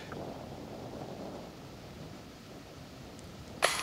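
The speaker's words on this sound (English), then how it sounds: "It's pretty windy." Steady wind gusting across an open disc golf course, a broad low rushing roar that holds for a few seconds, ending in a sharp buffeting thump against the microphone.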